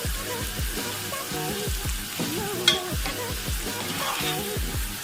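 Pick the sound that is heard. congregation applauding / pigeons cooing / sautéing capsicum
sautéing capsicum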